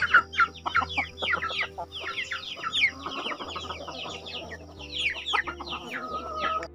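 Silkie and Rhode Island Red cross chickens cluck and chatter in a free-range farm yard, many overlapping calls and short squawks coming in quick irregular bursts, fairly close and clear.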